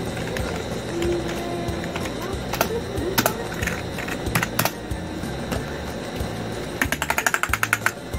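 Clicky keystrokes on an RGB mechanical gaming keyboard, scattered taps building to a quick run of sharp, close clicks near the end over a steady room hum.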